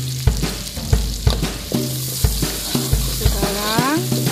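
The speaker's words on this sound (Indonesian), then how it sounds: "kacau-kacau sebati ya" Water spinach stir-fry being stirred in a hot pan: steady oil sizzle under regular scraping strokes of a utensil, roughly one every half second, close and fairly loud, with a brief clatter near the end.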